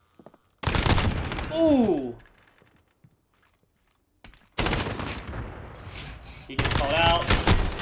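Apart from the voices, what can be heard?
MP7 submachine gun firing in a video game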